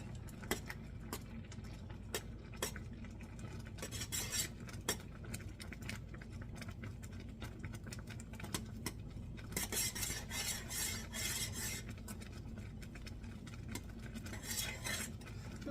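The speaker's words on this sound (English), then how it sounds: "I'm going to turn it down a little bit while I get all this stirred in" A spoon stirs ingredients in a pot on a stove, giving steady soft scraping with frequent light metallic clinks against the pot, close and alone over a low hum.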